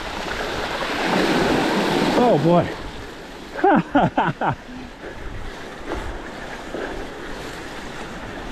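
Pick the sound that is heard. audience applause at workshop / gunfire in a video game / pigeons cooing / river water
river water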